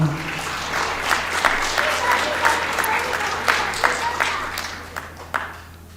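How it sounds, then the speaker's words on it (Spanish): A church congregation applauds together, a dense, steady wash of clapping that swells in bursts and tapers toward the end, with some voices mixed in. "Dele un aplauso al Señor."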